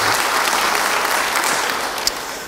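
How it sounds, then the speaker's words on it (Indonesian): A church congregation bursts into steady, full applause, a continuous wash of clapping that tapers slightly toward the end. "Yang percaya, beri tepuk tangan bagi dia."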